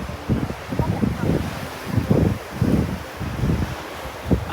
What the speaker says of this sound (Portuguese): Nossa, mas tá ventando muito.